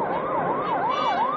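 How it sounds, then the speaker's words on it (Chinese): A police car siren wails in a steady rising and falling sweep within a Chinese radio crime drama, loud and continuous with no talk. "后面的警车是不是追你了？"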